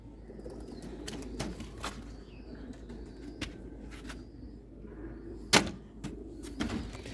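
Pet pigeons of the Sialkoti breed in a hobbyist's loft give soft, distant cooing and brief wing flutters, broken by a few sharp knocks and one loud bang, all faint and without talk.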